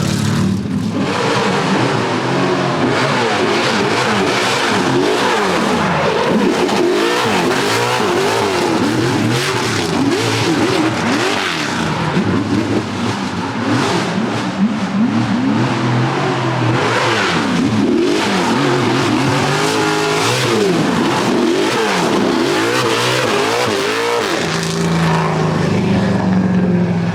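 A big-block drift car revs hard and slides through a corner, its engine roaring and wavering in pitch with rapid throttle blips and tire noise, loud and sustained.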